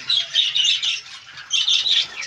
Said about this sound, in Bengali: এরা বৈরি টিয়া আছে